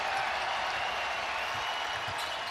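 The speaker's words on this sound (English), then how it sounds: "And that gives the crowd a chance to celebrate a little bit" A basketball crowd in Kansas City celebrating late in the Big 12 championship game between Iowa State and Houston, a broad, fairly distant roar mixed with scattered applause, steady throughout and without clear voices on top.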